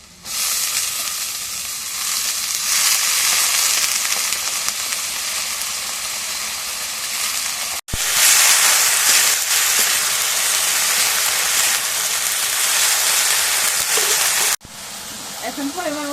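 Onions fry in hot oil for a home-cooked Bengali meal, with a loud, continuous sizzle that breaks off briefly once, comes back just as strongly, then drops away near the end.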